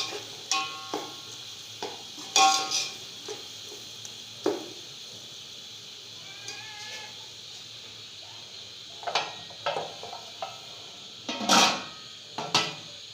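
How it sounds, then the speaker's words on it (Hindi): Potatoes and onions sauté in a pan for a vegetable pulao, giving a steady soft sizzle broken by scattered clinks and scrapes of a spoon against the pan. "अब इनको हमें थोड़ा सा भूनना है 5 से 10 मिनट, ताकि आलू और प्याज में कलर आना शुरू हो जाए"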